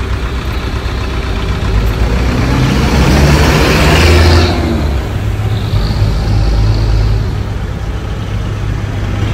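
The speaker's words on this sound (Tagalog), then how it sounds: "Yung sasakyan, napakarami." Busy road traffic in Baguio City, with car and truck engines idling and revving close by, swelling in the middle as a vehicle accelerates past, then settling back to a steady rumble.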